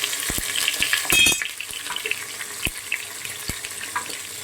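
Onions and ginger-garlic paste fry in a pan with steady broadband sizzling, punctuated by a few sharp clinks of a utensil against the pan and a brief louder stirring burst early on, no voices.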